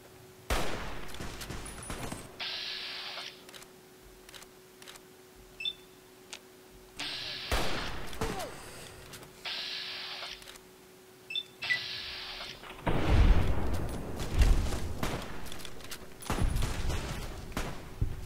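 Gunfire in the game Fallout New Vegas, sharp cracks and bursts of shots scattered across the scene, some near and loud, with a mechanical clicking sound in between and a steady background hum.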